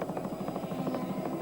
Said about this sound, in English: Great tracking shot by our 7 helicopter across the top of Mount Panorama.